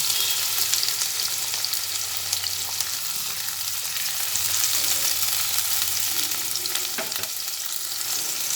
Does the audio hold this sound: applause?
no